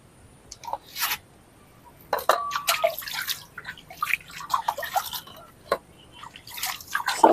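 Freshly caught small pond shrimp being washed by hand in water, with irregular splashes, drips and sloshing bursts, close and fairly soft, spread across the whole stretch.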